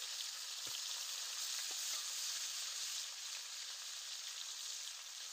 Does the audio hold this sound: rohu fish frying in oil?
yes